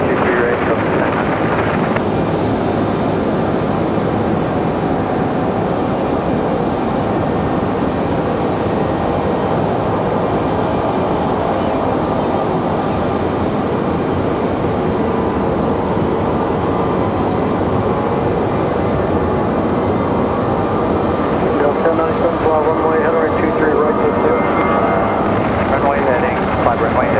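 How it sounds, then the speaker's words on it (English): JetBlue airliner departing runway 23 right at Raleigh-Durham International, a loud continuous jet engine roar building steadily at a distance and holding for nearly half a minute with no pauses. "Got JetBlue 338 getting ready for departure here in just a minute."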